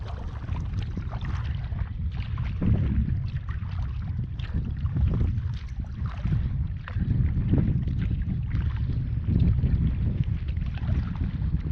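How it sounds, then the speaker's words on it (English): Strong wind buffets the microphone out on open water in the middle of a lake at Collier Seminole Park, a continuous loud low rumble with small gusty swells and no talking. "Wind's picking up out here in the middle a little bit."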